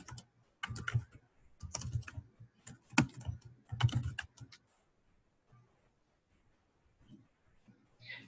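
Computer keyboard typing in bursts of quick clicks over about four seconds, fairly close, then quiet with faint clicks, no talking.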